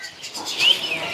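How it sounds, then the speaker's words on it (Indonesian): Brief chirping calls of a Javan pied myna (jalak suren) at a bird market, a couple of short tweets over rustling and light background noise. "Jalak Suren. Jalak Suren cetretan."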